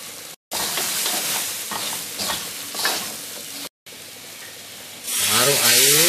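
Chilli powder with fennel and cumin seeds sizzles and fries in oil for a chicken curry served with roti jala, a steady crackling hiss with stirring, briefly cut twice, then swelling into a louder surging sizzle.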